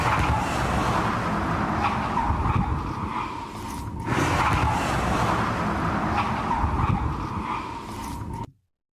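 A car speeding away, picked up by a Ring doorbell camera: a loud, rushing engine roar with skidding tyre noise that holds for about eight seconds, then cuts out abruptly.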